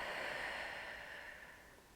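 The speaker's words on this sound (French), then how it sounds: "Et je reprends ma respiration naturelle" Close, steady breathing after a relaxation breathing exercise, one long soft breath of airy noise that slowly fades over two seconds, with no talking.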